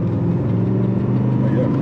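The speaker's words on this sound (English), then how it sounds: "You hear a lot of induction noise, which I like." BMW engine running with heavy induction noise, a steady mid-pitched drone with layered harmonics holding even for under two seconds, close and loud.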